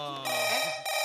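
A telephone rings with a steady electronic tone, loud and close, continuing through the short moment with a brief change in pitch.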